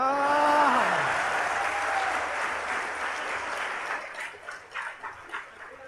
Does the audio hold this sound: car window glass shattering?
no